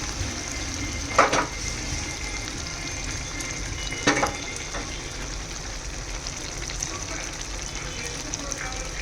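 Cashews fry in ghee with a continuous, close sizzle. Two short clattering stirs stand out above the steady crackle.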